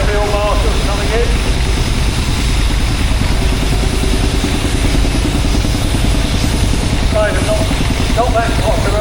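A rare Field Marshall tractor rolls into a steam rally arena, its engine throbbing in a loud, continuous low rhythmic chug, with a voice talking over it at times.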